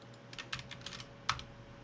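Keys clack on a computer keyboard as someone types a message into a streaming chat, a handful of quiet, close taps with one sharper keystroke near the end.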